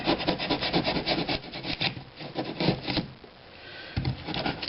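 Close, continuous scraping and rasping of a tool carving fissures into a foam rock surface, in rapid rough strokes with a brief quieter stretch.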